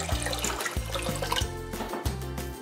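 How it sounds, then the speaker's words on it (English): Water pours into a pot of homemade ramen broth to thin it, a close, continuous splashing gurgle that pulses in uneven glugs as it flows. "Then to thin it out, I'm just going to be adding some water."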